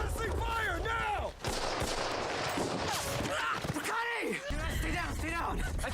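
Dense gunfire from a Band of Brothers war episode, rapid bursts and heavy booms filling the scene while shouting voices carry over the battle.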